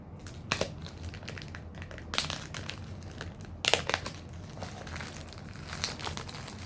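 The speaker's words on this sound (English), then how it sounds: "My switchblade X-Acto knife. So I don't cut the books, I just cut the plastic." Plastic wrap being sliced and pulled off comic books with an X-Acto knife, close crinkling and crackling bursts spaced a second or two apart, with quieter rustling between.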